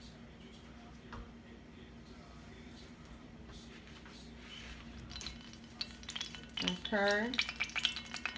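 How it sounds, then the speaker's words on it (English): Corn fritters dropped into hot grease, a soft continuous frying hiss with stirring and clinking of utensils that grows louder toward the end, with a brief spoken word. "I'm fixing to fry my little corn fritters"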